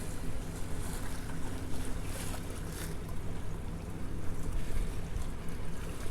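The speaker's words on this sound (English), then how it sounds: "13-mile-an-hour winds." Steady 13-mile-an-hour wind over choppy water on Aransas Bay and Copano Bay, a continuous roar of gusts buffeting the microphone with a low rumble of waves and no voices.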